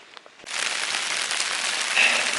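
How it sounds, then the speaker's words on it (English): Steady rain patters onto a wilderness campsite on Peaked Mountain, starting abruptly after a brief quiet moment and continuing as an even, close, broadband hiss. "it's raining again."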